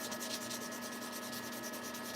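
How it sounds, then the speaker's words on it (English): Fine sanding of a smooth, flawless briar tobacco pipe, a steady rhythmic rubbing rasp with even repeated strokes, close and fairly quiet, with no talking. "these need a little bit of fine sanding on them"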